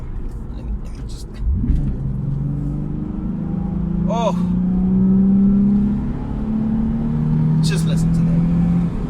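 Nissan 350Z engine idling then revving, a deep rumble that rises and falls through a couple of throttle blips close by, with someone talking briefly over it.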